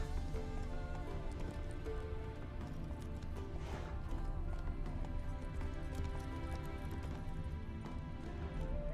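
Roach, Geralt's horse in The Witcher 3, gallops with a steady, rapid clip-clop of hooves, quiet and continuous throughout.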